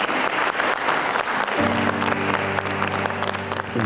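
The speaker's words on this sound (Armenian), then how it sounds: "Ես կուզեմ բարձր ծափարենք երկու մասնակիցներին։" Loud, dense applause from a game-show audience fills the whole stretch, with a steady sustained tone rising beneath the clapping partway through.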